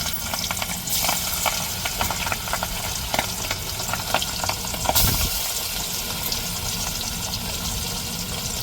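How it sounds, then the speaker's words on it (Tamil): Fish fries in hot oil for a home-cooked meal, a continuous crackling sizzle with occasional louder spatters and stirring clinks, close and steady throughout. "சூடேறிட்டு இப்போ மீனை பொரித்து எடுத்துக்கிறோம்."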